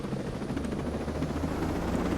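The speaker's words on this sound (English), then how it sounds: "Get in the helicopter, which is optional." Helicopter in the video game Ghost Recon Breakpoint, a dense, continuous rotor roar with a low throbbing pulse, loud and close, holding steady with no voices.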